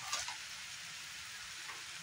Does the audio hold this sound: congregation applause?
no